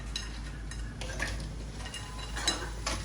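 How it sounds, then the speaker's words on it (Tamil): Half a kilo of washed crab going into a pan of chilli and pepper masala: a few scattered clattering knocks and scrapes against metal over a low, faint background hiss. "இப்போ நம்ம கழுவி எடுத்து வச்சுருக்க இந்த அரை கிலோ நண்டு சேர்க்க போகிறோம்"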